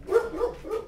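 Pet dogs barking indoors: three short, close barks in quick succession, loud and alone.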